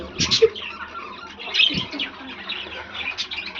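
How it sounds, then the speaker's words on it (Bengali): Quail in a Bangladeshi home flock, kept with two chickens and budgerigars, give a few scattered chirps and short calls over a low, steady ambient hum. "এখানে 43টা কোয়েল পাখি আছে, সাথে দুইটা মুরগি আর বাজরিকার পাখি আছে উপরে"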